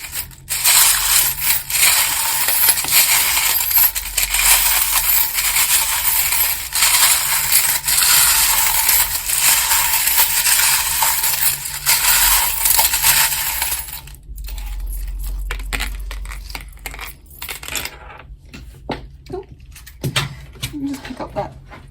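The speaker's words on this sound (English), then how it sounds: "Please turn down the volume if you don't like the sound of the charms." Small hard charms clatter and jingle continuously as they are shuffled together in hands for a tarot reading, with a brief lull and a few sparse clicks toward the end.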